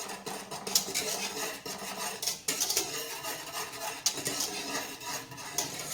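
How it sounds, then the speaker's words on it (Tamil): Whisk beating a thin pearl millet (kambu) flour batter in a pot, quick irregular scraping and clinking strokes close by, fairly quiet, with sharp metallic ticks scattered through and no talking. "இந்த விஸ்கு வச்சு அடிக்கும்போது கட்டி கட்டாமல் வரும்"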